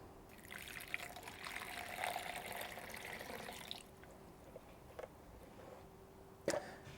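About 300 ml of water poured into a Laveo dry flush toilet to mix with a gelling powder, a soft trickling pour lasting several seconds before it stops, followed by a couple of faint clicks and a sharp knock.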